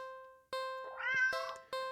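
A cat gives a few close, clear meows, short tonal calls separated by brief pauses, with one longer rising cry in the middle and no talking.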